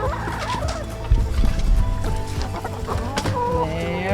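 Several hens cluck and chatter close by, a busy overlapping flock sound, fairly loud with no talking.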